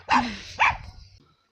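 Two sharp dog barks about half a second apart, close and fairly loud, followed by a short low trailing sound and then quiet.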